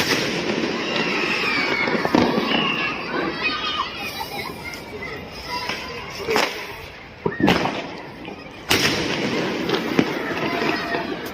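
New Year fireworks crackle and pop continuously nearby, with several louder bangs standing out, while children's voices chatter and shout in the background.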